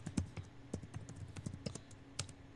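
Keyboard typing in a horror video game: a quick run of sharp, close key clicks in an uneven rhythm, with brief pauses between bursts and no talking.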